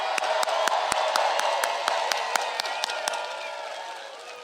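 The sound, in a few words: rally crowd applauding veterans and first responders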